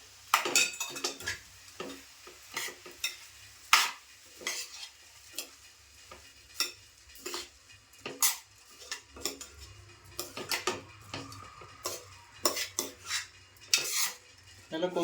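Washed rice sautéed in a pan for a Konkani-style masale bhaat, with repeated sharp clinks and scrapes of a spoon against the pan over a faint sizzle, irregular and close, with no talking.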